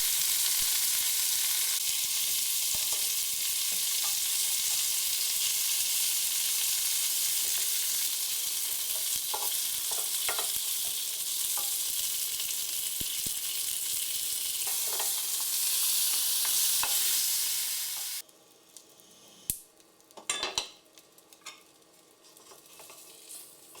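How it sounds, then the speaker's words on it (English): Lobster pieces frying in hot oil in a wok, a dense steady sizzle and crackle lasting most of the time, then the hiss drops away, leaving scattered pops and spatters. "fry both sides until they pick up a golden red color"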